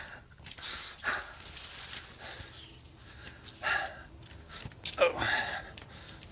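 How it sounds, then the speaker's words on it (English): Dogs at a door wanting to come in, with a few short barks and whines scattered among scuffling and panting, fairly close but not loud, over a quiet room. "I got doggies wanting in."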